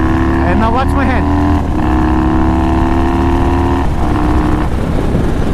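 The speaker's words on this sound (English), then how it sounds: "That's blipping the throttle while it's shifting." Yamaha Warrior 1700 motorcycle engine blipping the throttle during a gear shift: a loud, continuous engine drone with a quick rising rev burst early on, then a steady hum with brief dips as the gears change.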